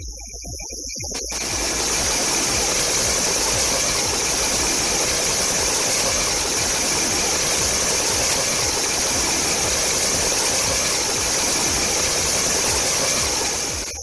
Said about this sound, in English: The fact that the noise level reduces is the first indication that the lubricant is effectively reaching the bearing